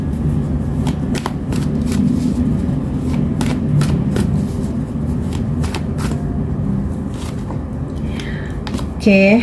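Tarot cards being shuffled by hand, a continuous crisp riffling and slapping close by, loud and steady throughout, with a brief louder flourish at the end.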